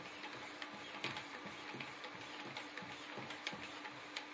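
Faint, quick rhythmic scraping strokes of a knife blade on a 3.5 micron strop held in a sharpening clamp, repeating roughly every half second over a low steady hiss.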